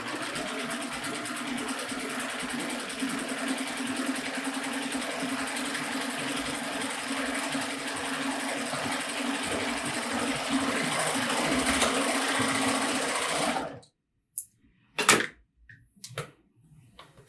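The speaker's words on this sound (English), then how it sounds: "I'm going to use my seam guide again to create a hem with this double cover stitch wide" A Baby Lock Euphoria cover stitch machine runs continuously for about fourteen seconds, hemming with a double wide cover stitch along a seam guide, then stops, leaving a few faint clicks and handling noises.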